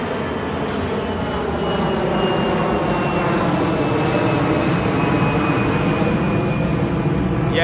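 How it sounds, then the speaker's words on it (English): A fixed-wing plane flies overhead, a continuous loud engine drone with a faint steady whine that holds evenly for nearly eight seconds. "there's planes flying overhead."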